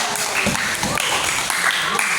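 Students in an Indonesian classroom clap for a teacher, a loud, close burst of mixed hand claps and voices that stays busy and crowded throughout.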